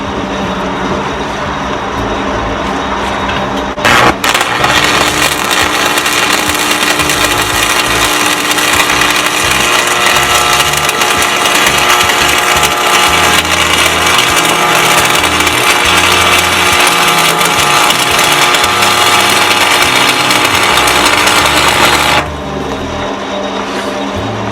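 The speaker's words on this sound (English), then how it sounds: "I'm going to weld the bottom strip now" Arc welding on the loader frame of a Massey 50 tractor: a loud, steady crackling buzz begins abruptly, runs continuously for about eighteen seconds, then stops, with a faint background hum before and after.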